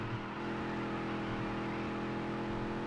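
A race car engine in the Dirt to Daytona racing video game holding a steady moderate rev, a continuous whirring drone with a slight rise early on, fairly quiet and without talk.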